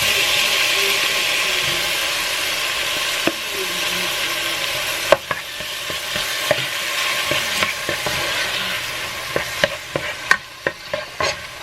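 Tomatoes and jalapeno mixture frying in a pan, a steady loud sizzle with stirring, then sharp spoon-on-pan clacks growing frequent toward the end.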